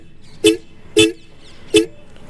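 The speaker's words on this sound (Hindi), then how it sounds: "इसमें लगे हैं ड्यूल हॉर्न" Dual aftermarket horn fitted to a Royal Enfield Hunter 350 motorcycle, sounding three short, loud, close blasts with brief gaps between them.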